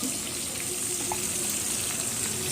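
Dried red chillies and bay leaves sizzle in hot oil, a steady, dense close crackle that holds for the whole stretch without pauses or talking.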